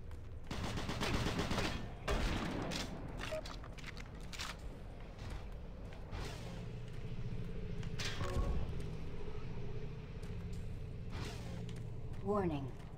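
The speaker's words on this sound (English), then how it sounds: "Warning, automated turret guns online." Automated turret guns fire in Doom 3: Resurrection of Evil, bursts of rapid gunfire and sharp shots scattered through the scene alongside other game effects and a synthetic warning voice.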